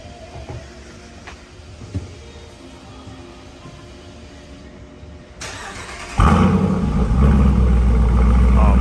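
An Audi S4 engine fires up after an exhaust repair, settling into a loud, steady, deep exhaust rumble close by after a stretch of quiet background noise.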